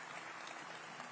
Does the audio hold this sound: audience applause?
yes